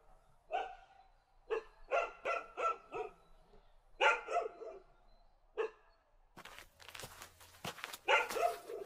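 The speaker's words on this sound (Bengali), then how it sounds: "হঠাৎ আমার ঠিক পাশ থেকে একটা কুকুরের ডাক শোনা গেল" Black dog barking on a stormy night by the river, a series of sharp, close barks in bursts of several, followed by scuffling and rustling noises.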